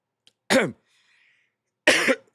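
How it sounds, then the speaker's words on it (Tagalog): Two sharp, close coughs separated by a short pause, loud and harsh against near silence. "Pasensya na sa paubo-ubo natin."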